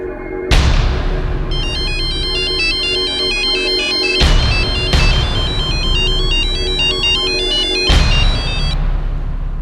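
A phone ringtone plays loudly in repeated bursts of a bright electronic melody, each burst starting with a sharp attack, about three rings over roughly ten seconds.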